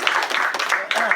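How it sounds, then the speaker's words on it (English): Audience applause fills an indoor sports medicine talk, a short burst of many hands clapping in a dense, steady patter, loud and close, with a voice speaking over it. "a big round of applause"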